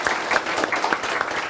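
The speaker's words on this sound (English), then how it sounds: "The applause from those students now fueling Jake on his journey back to Normandy." A crowd of students applauds a veteran, a steady patter of many hands clapping with some sharper individual claps standing out, fairly close and unbroken.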